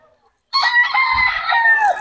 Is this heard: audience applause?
no